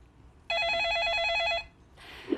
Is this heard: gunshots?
no